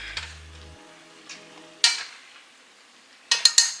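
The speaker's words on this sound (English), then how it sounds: "I'm gonna stir my greens up a little bit." Collard greens with bacon stirred in a hot pan: a spoon scrapes and clatters against the metal in a few sharp bursts, with a faint low hum and quiet moments between strokes.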